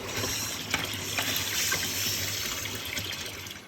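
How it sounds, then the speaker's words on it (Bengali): Rice being washed in water gives a continuous close sloshing and splashing of liquid, steady and fairly loud throughout with no talking. "এখন এই চালটাকে এটাকেও ধুয়ে দেবো"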